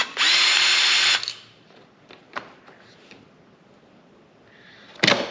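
A power drill or driver whirs loudly for about a second while backing screws out of a factory front door speaker on a Lexus GX470, followed by quiet handling clicks and a brief final burst of the tool.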